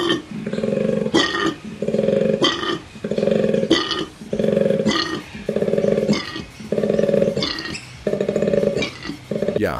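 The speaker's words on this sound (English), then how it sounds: "Koalas communicate by making a diverse range of noises." A deep, rhythmic bellowing call repeats in a steady snoring-grunting pattern, with sharp inhaled snorts between each loud, close drone.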